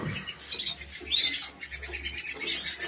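Caged working birds call in a short burst of bright chirps and squawks, fairly close and continuous, with a low background hum and no talking.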